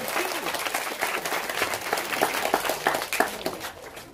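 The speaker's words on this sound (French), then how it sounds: "On applaudit très fort pour le directeur." An audience at a school donation ceremony claps in sustained, dense applause, loud and close, with voices mixed in.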